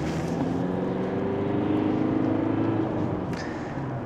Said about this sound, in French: Donc, il faut faire rugir le moteur.